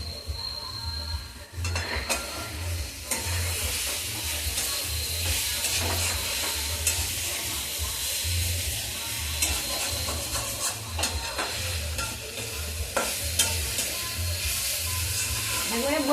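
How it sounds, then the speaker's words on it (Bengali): Saag greens frying in a pan, a continuous loud sizzle with repeated clatter and scraping of a utensil stirring, steady throughout, with occasional voices in the background. "ভোজবাড়ির মতন শাক ভাজা"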